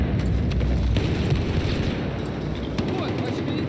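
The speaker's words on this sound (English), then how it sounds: "Бросаю гранату!" A grenade thrown and exploding during a multiplayer shooter match, with heavy rumbling blast energy mixed into dense surrounding gunfire and battle noise, and voices calling out over the din.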